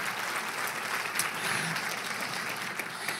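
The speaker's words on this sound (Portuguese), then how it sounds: "Dê para Jesus uma forte salva de palmas." A church congregation claps together in dense, steady applause, with faint voices mixed in, filling a large worship hall.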